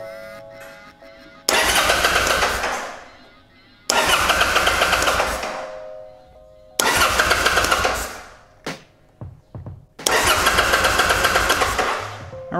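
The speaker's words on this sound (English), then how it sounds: "Now we'll crank her over and see if she sparks." The starter on a Kawasaki Drifter 800 (VN800E) motorcycle cranks over in four long bursts of a couple of seconds each, a loud steady whirring churn without the engine catching, with a few short stutters between the third and fourth.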